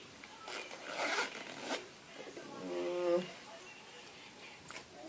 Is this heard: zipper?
yes